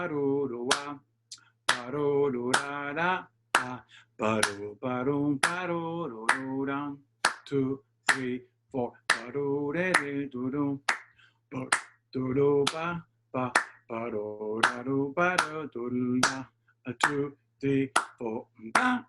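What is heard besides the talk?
clapping a displaced rhythm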